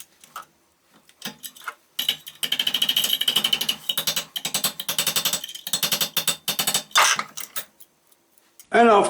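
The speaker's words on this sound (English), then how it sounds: "after a little bit of hammering to straighten it out" A metal pipe is hammered to straighten it, rapid bursts of sharp metallic blows in quick rhythmic runs, loud and close, with short pauses between the strikes.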